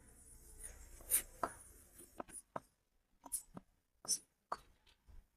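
Chalk or marker writing on a classroom board during a physics lesson on a concave mirror, heard as scattered short taps and strokes in irregular bursts, close and fairly faint.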